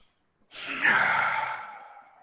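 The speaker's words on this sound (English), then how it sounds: "breathe out." A single long exhalation during a yoga breathing exercise, soft onset swelling into a steady airy rush that slowly fades, close and alone with no talking.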